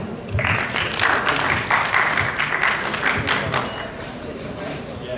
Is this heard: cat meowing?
no